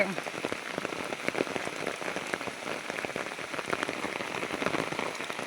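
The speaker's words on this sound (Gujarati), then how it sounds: "અત્યારે બહુ બધો વરસાદ ચાલુ છે" Heavy rain pours down steadily in Santrampur, a thick patter of drops drumming on surfaces close by, with no break in the downpour.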